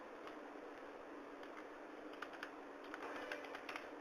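Light typing on a computer keyboard, a quiet scatter of soft key clicks that grows busier toward the end, close and faint under a steady background hiss, with no voices.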